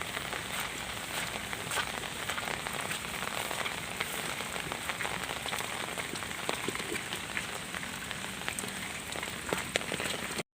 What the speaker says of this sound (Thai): นี่ครับฝนตก